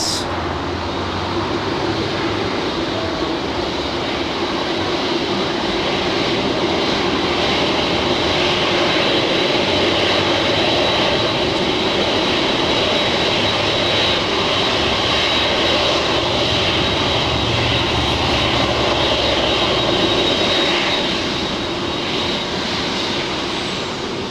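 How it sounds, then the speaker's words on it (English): Boeing 747-8 jetliner with GEnx engines at Los Angeles International Airport, a loud, steady broadband jet roar with a faint high whine, swelling slightly and holding for the whole stretch with no talk. "What a beautiful aircraft that 747-8 is."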